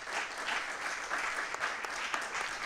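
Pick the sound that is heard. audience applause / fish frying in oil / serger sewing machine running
audience applause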